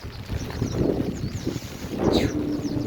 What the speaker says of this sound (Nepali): कस्तो चिसो हावा पनि आयो